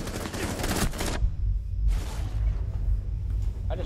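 Rapid automatic gunfire from a first-person shooter game rattles loudly, then stops briefly and resumes in a second heavy burst under a constant low rumble.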